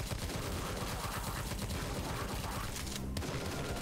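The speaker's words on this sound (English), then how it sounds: "It's a double-barrel shotgun." Rapid gunfire and booms from the co-op video game Tesla vs Lovecraft, including a double-barrel shotgun, form a dense, loud, continuous barrage.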